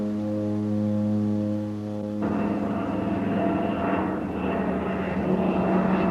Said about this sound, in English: An airplane must be small enough to reach the remote airstrips and specially adapted to short takeoffs and landings.